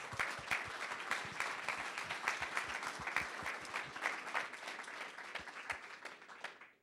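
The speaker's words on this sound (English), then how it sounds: "Please give a round of applause for the panel." A conference audience applauds a startup demo-day panel indoors, steady dense clapping from many hands sustained throughout and tapering off at the end.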